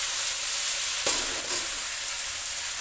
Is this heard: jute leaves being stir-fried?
yes